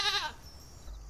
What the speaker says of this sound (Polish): kozy i owce.